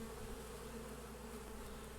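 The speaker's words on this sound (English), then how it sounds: "Inside the hive, the bees have built honeycombs" Honeybees buzz steadily inside their hive, a dense, continuous droning hum from many insects close by, unbroken and alone with no voices.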